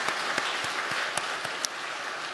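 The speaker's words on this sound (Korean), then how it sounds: "박수 한번 주시면 감사하겠습니다." Congregation at a Friday night church revival meeting applauds, a continuous even wash of many hands clapping, with a few sharper individual claps standing out.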